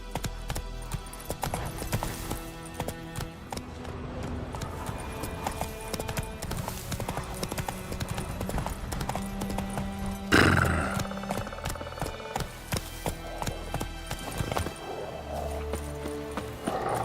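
Hoofbeats of Roach, the horse in The Witcher, galloping in a steady clip-clop rhythm close by over game music, with a brief louder burst partway through.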